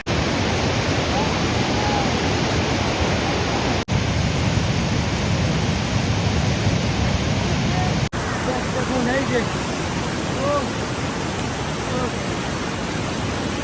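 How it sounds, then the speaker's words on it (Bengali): Ghagha mini waterfall in Karudih, Jharkhand, with water rushing down from the hills in a loud, steady, close roar that continues unbroken. "ঘাঘার মিনি ওয়াটারফল পাহাড় থেকে পানি আসছে সে পানিগুলো স্পিডের সঙ্গে"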